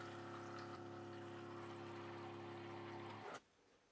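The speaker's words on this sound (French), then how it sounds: "Et donc, ça va faire arriver de l'eau au fond de la base." Water rushes steadily into the base of a Dreame L20 Ultra robot vacuum dock, a close, continuous pouring flow that cuts off abruptly near the end, leaving a quiet hum.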